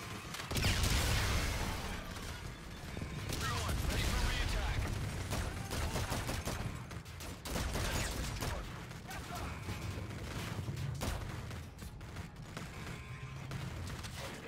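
Automatic gunfire in the video game Infinite Warfare: rapid bursts of shots mixed with mechanical clatter and other game effects at moderate volume, with a voice talking at times.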